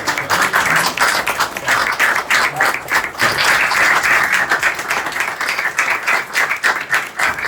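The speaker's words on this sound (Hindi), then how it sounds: "मैं चाहूँगा कि हम ज़रा स्टैंडिंग ओवेशन देंगे" A standing ovation for sales team members at an appraisal event, loud, close clapping from a room of people, sustained and uneven for several seconds.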